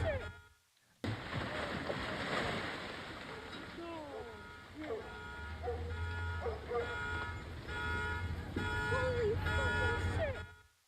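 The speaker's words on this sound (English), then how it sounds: "And you can hear all of the car alarms there parked on the street going off simultaneously at the same time" Several parked car alarms on a street blare together in overlapping electronic wails and tones after a short silence, with a dog barking and a person talking amid the steady din.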